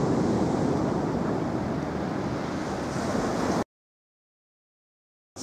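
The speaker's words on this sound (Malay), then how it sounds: "Ini saat air laut sedang pasang." Sea waves at high tide on a beach at a resort in Anyer: a steady, loud wash of surf with wind noise for several seconds, then it cuts to silence before returning briefly at the end.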